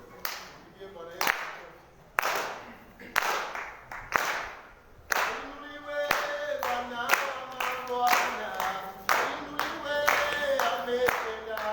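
A church congregation at a Sunday service claps hands together in a steady rhythm, the claps loud and close over music and voices.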